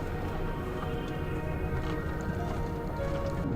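A horse's hooves clip-clop steadily at a walk on an outdoor trail, close by and moderately loud against a constant background rumble, with no voices.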